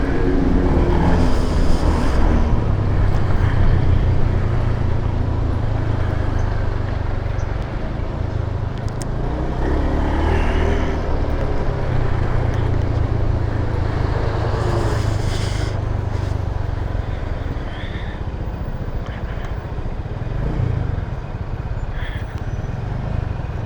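Heavy road traffic in Baguio, a continuous low rumble of engines and tyres that stays fairly loud and even, with faint voices now and then.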